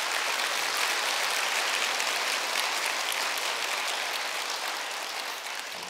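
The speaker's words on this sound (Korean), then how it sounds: "잠깐 자리에서 일어나시면 저희가 박수로 환영하겠습니다." A church congregation at a Sunday service applauds to welcome visiting guests; steady, dense clapping fills the room from start to finish at an even loudness.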